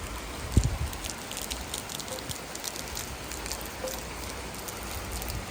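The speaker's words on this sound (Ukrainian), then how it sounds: "пропоную разом із чашкою кави на кілька хвилиночок послухати справжню літню зливу" Steady heavy summer rain pouring and pattering on surfaces, a dense continuous hiss with a brief thump near the start.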